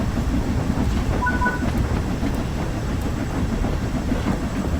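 Steady rumble of a steam train running in Train Sim World 4, with a dense low rolling roar and faint rail clatter held at constant loudness, no talk over it.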